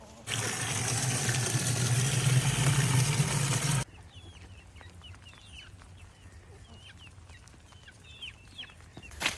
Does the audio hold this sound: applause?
no